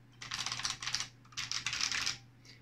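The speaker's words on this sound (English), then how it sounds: "my Electronica MC 7004, more commonly known as those weird capacitive buckling spring Russian Model F clone thingamajigs." Typing on a new-old-stock Electronica MC 7004, a Russian capacitive buckling spring keyboard cloning the Model F, two dense bursts of loud, clacky, rapid keystrokes separated by a short pause, over a low steady hum.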